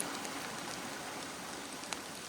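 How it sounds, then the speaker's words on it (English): Steady rain in the Pennsylvania Wilds patters continuously as a soft, even hiss, with an occasional louder drip standing out. "It's been raining off and on."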